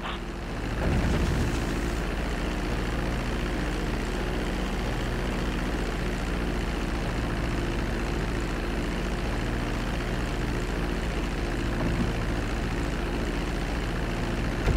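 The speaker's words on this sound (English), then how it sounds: "Start reducing the plane's altitude gradually so you're just above the runway as you approach." Propeller plane in Grand Theft Auto V coming in to land on a runway, a steady loud engine drone with a low hum running continuously and evenly throughout, no voices.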